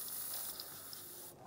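Penetrating spray hisses in a short steady burst onto the fuel pump hose of a 1992-1996 Ford F-150 during rear fuel pump module replacement, quiet and close, stopping abruptly near the end.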